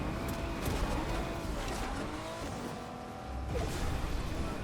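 A weak car driving in Fortnite, a steady engine drone with tire noise and whooshing passes, fairly faint and continuous, briefly dipping before swelling again.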